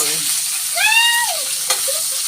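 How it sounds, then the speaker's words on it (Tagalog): Onion and garlic sauté in a pan with a steady broadband sizzle, while a brief rising whine sounds midway over the hiss, with a small click shortly after. "Gigisa tayo ng sibuyas at bawang."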